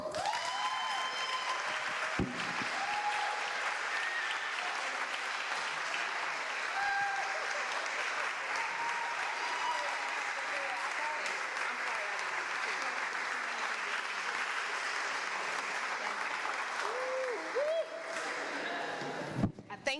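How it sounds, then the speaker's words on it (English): A large crowd at a scholarship award ceremony applauds continuously and loudly for the full stretch, a dense wash of clapping that ends abruptly. "Let's give her another big round of applause."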